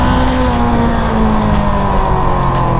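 An FKM Glider 500S big bike, about 200 kg, with its engine running steadily while being ridden, a loud continuous droning hum with a constant pitch and rushing wind, close to the microphone and without talk.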